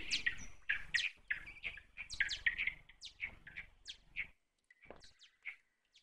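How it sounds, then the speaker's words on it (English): Birds chirp in an ambient horror video game, in quick, bright bursts, many short tweets close together, then a brief gap and a few scattered calls near the end. "Sounds like birds."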